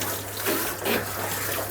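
Warm water runs steadily from a tap for a small dog's bath at a mobile grooming van, a close, continuous rushing splash with slight surges.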